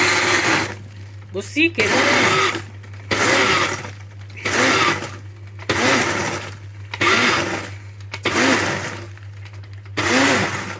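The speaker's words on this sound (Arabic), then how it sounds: "هبتدي انزل بالبسكوت وهضربه ضربتين ثلاثه لان انا عايزاه خشن" A blender pulses Oreo-style biscuits into a coarse crumb for a drink, with about eight short, loud motor bursts in a steady rhythm and brief pauses between them, and someone talks briefly near the start.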